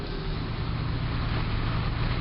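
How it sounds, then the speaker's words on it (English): A Chevrolet Blazer engine running through a stainless steel 3-inch exhaust with a true Y-pipe, giving a steady, moderately loud rumble with no talk. "This is my Blazer now with the stainless steel exhaust."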